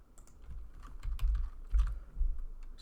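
Computer keyboard typing while entering an SQL query on a Windows machine, with bursts of irregular clicking keystrokes in quick clusters, close and moderately quiet, no talking.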